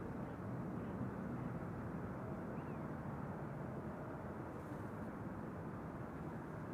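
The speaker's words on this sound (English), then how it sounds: "This is the A330 cargo from Air China, arriving from Chengdu" An Air China Airbus A330 cargo jet arrives at Amsterdam Schiphol from Chengdu, heard as a steady, broad jet roar held at distance without any talking.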